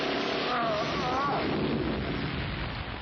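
A voice imitates machine gun fire with a rough, continuous rattling burst that runs steadily for a few seconds, close and fairly loud, with a brief vocal sound near the start.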